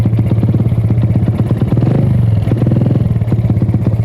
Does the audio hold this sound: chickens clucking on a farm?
no